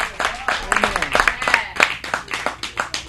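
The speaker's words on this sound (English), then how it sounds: "So clap for Pastor Jemison." Steady applause from a church crowd, dense irregular claps filling the space, with some voices mixed in.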